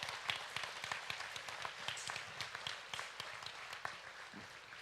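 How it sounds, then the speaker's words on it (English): A crowd at a state fair swine show claps for the champion and reserve champion gilts. The applause is a dense, steady patter of many hands, heard at a moderate distance, with no voices over it. "Let's give them a big round of applause."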